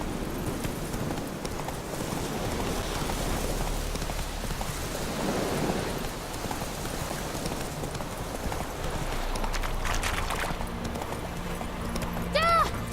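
Roach the horse gallops in The Witcher 3, a steady, fast clip-clop of hooves with rain pattering around and a brief game voice near the end.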